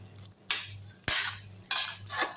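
A spoon scrapes through pea masala in a pot, three or four distinct stirring strokes with a low hum underneath and no talking.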